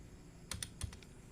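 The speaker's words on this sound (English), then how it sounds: "let me type something" Fingers tap a computer keyboard in a short, irregular run of four or five crisp, quiet keystrokes, close and alone with no talking.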